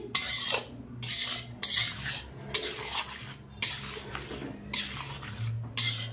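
A utensil scrapes and stirs onion gravy as it is sautéed in a pan, repeated rhythmic scraping strokes against the metal with a low background hum.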